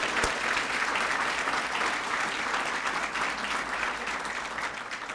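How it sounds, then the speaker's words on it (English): Warm applause from a banquet audience at a university alumni awards dinner, dense and sustained throughout, fairly loud and close, with no one speaking over it. "Would you give her a round of applause?"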